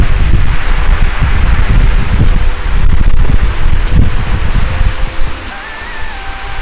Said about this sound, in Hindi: गजब का वाटरफॉल भाई